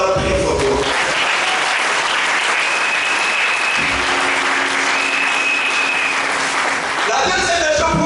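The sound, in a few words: church congregation applauding loudly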